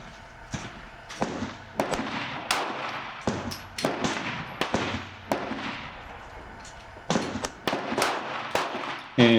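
A compact Glock 43 pistol fires a string of sharp gunshots at a target 15 yards away on a range, the cracks coming at uneven intervals and then a quick final pair, loud and close.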